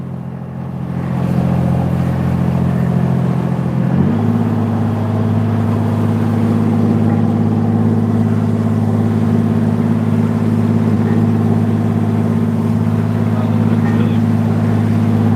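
Fishing boat engine setting longline halibut gear throttles up, its steady loud drone rising in pitch partway through and then holding strong, close and continuous with no talk over it.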